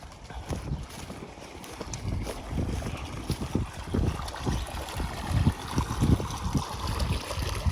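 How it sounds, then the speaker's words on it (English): Irrigation ditch water flowing freely after the plug is pulled, feeding pecan and fruit trees from a late-1800s ditch; steady burbling rush with uneven splashy pulses, close and moderately loud, no talk. "So now that I pulled the plug on that front, we've got the water."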